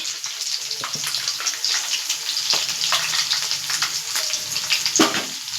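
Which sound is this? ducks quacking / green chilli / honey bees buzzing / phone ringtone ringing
green chilli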